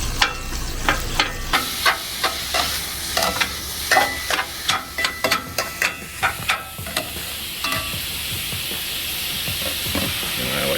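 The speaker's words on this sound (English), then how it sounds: "Now chop this up in the pan. The thing I found that works the best is just your typical Blackstone scraper." A Blackstone scraper chops sausage on a 22-inch Blackstone griddle, with a run of loud, rhythmic metal strikes over a constant sizzle that fades into steady frying toward the end.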